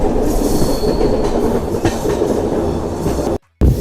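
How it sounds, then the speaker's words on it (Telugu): Inside a coach of the Garib Rath superfast express between Yesvantpur and Secunderabad, a steady loud rumble of wheels on rails with faint squeals, cut by a brief dropout near the end. "మనం ట్రావెల్ ట్రైన్ వచ్చేసి ఒక గరీబ్ రథ్ ఎక్స్ప్రెస్లో అయితే ట్రావెల్ చేస్తున్నాము."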